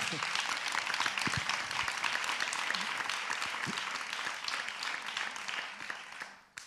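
An audience at a panel debate on the professionalisation of people with disabilities applauds a speaker, with dense, steady clapping that holds for several seconds before fading out at the end.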